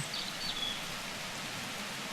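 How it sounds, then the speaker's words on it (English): Heavy rain in the city-building game The Universim pours as a steady, dense hiss with no breaks, even and continuous throughout, with no talking over it. "this rain is crazy. Look at all this rain."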